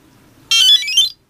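A boiler's little electronic beeper sounds one short, loud, high-pitched beep against a quiet background, signalling an error code.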